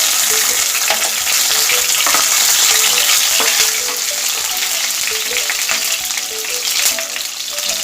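Garlic sizzling in hot oil over a low gas flame while making matar paneer, a steady close frying crackle with occasional light stirring clinks throughout, no talking.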